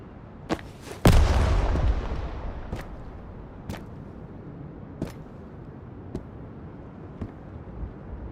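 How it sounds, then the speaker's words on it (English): A grenade detonates in the survival shooter Road to Vostok, one loud close boom with a long rumbling tail, then sparse distant gunshot cracks spaced out over several seconds. "I want to throw a grenade at him."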